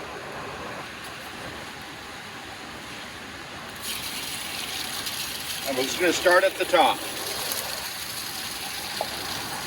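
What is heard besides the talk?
water spraying onto a screen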